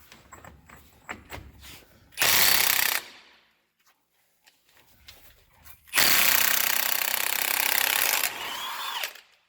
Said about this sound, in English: Will the Milwaukee 1/2 inch impact take off this axle nut?